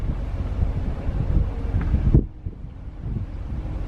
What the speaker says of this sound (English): And boy, oh boy, it's windy.